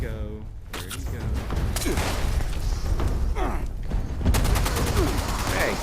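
Rapid gunfire and thumping impacts fill a Fallout 76 firefight, bursts of shots running almost continuously at close range while a player talks over the action.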